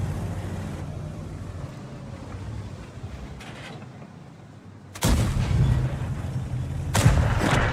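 A tank's main gun in a tank video game fires two heavy, booming shots near the end, after a stretch of low rumbling engine and ambient noise.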